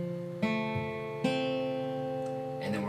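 An acoustic guitar chord is fingerpicked string by string, each note ringing out clearly and sustaining, with a few plucked attacks spaced over a couple of seconds, close and alone.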